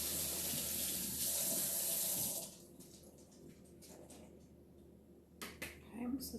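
Drained garbanzo beans rinsed under a running kitchen tap, a steady broadband water rush for the first couple of seconds, then quieter clinks and handling sounds from the sink.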